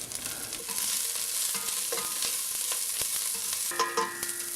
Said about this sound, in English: Let the oil heat up and then put the onions inside.